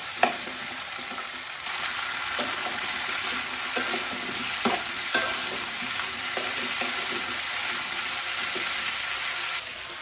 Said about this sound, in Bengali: এখন আমি ভালোভাবে সিম আর আলুগুলো বাইজা নেবো